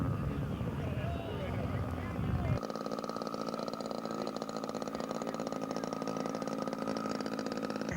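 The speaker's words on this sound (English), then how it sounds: "And Earl will continue his taxi back to the hangar." A scale model aircraft taxis back to the hangar at an outdoor show, its engine giving a steady buzzing drone at moderate distance, with an announcer talking over it.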